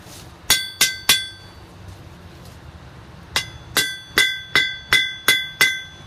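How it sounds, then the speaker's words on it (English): Light planishing hammer blows ring out on metal stock: three sharp metallic strikes, a pause, then a quicker run of about eight evenly spaced ringing taps, each decaying briefly, close and clear. "Light planishing blows."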